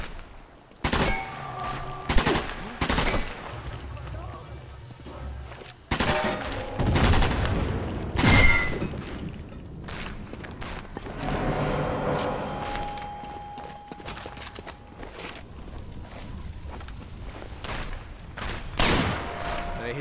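Gunfire from the video game Sniper Elite 4 rings out in loud, irregular bursts of sharp shots and rattling volleys, separated by short gaps and lingering low rumble.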